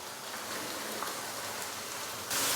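Chopped tomatoes hitting hot oil spiced with crushed red chilli and salt in a pan, giving a steady, dense broadband sizzle like rain that swells louder near the end.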